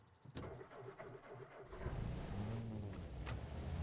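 Jeep engine in Arma Reforger, a low droning motor that starts up and builds into a steady, rising rumble while driving, moderately close with no talk over it.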